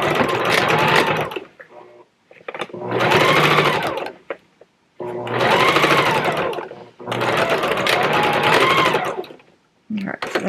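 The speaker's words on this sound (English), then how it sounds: "I'm going to do one at a time, baste stitch them in place" A sewing machine runs basting stitches on fabric for a dragon panel, in four sustained bursts of rapid mechanical whirring separated by short pauses, fairly loud and close.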